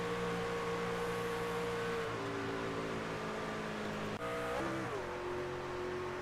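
Race cars lap Talladega near the end of a race, their engines holding a steady droning roar whose pitch dips and shifts partway through, continuous with no talking.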